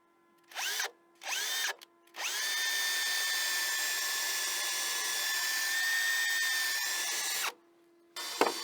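Cordless power drill driving screws into exterior wood cladding, with two short motor bursts and then one long, steady close whine lasting about five seconds before stopping, and another brief start at the end.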